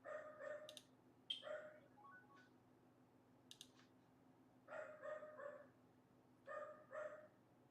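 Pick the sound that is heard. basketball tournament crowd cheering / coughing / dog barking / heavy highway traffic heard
dog barking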